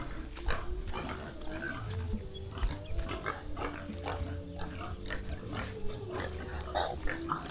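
A pig oinks and squeals while being caught at a family gathering, with repeated agitated grunts over a busy outdoor background.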